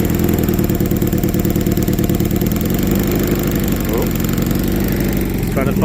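An MG two-seater sports car engine, left abandoned for five years, runs loud and steady close by, its uneven idle hunting and settling with a rough, clattering tone throughout.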